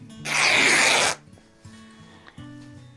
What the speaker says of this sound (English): I'm just going to make a little cut here so that I can begin to rip this fabric.